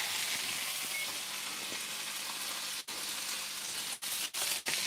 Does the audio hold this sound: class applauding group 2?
no